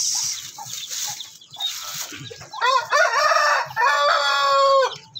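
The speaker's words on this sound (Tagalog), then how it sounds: "Yan yung mga manok panabong ni Jiltan." Fighting roosters (gamefowl) crow in a backyard as they are let loose, several long, loud, drawn-out calls overlapping near the end, after quieter clucking and stirring at the start.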